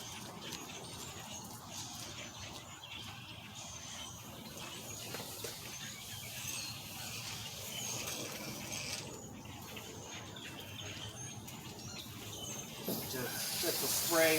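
A pressure-washer wand hisses as water sprays down a Shelby car at a wash bay, with a continuous rushing and spattering that swells louder near the end.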